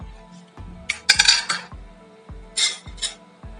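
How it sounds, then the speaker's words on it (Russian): A metal pot lid is set down on a kitchen table while chicken broth cooks, giving a few sharp clinks and rattles, close and alone. "И, сняв крышку, положите ее на кухонный стол."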